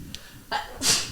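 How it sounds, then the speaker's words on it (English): A person in a podcast conversation sneezes once, up close. A short sharp intake of breath leads into a loud, hissy burst that fades out quickly. "I think I have to sneeze."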